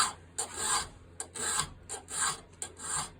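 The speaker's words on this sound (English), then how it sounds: "I just use the chainsaw file, and I file until they meet" Rhythmic rasping strokes of a chainsaw file on a horseshoe nail, about seven back-and-forth passes, close and fairly loud with no talking.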